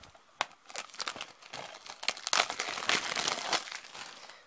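Crinkly plastic and paper packaging of a Horror Block subscription box crumples and tears in quick, irregular bursts, close and fairly soft, with no talking.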